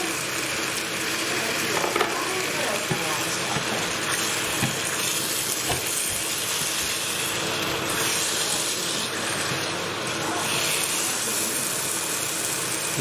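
Chicken karahi spices sizzle and hiss steadily in a pan after a splash of water goes in, a dense crackling fry with no talk over it.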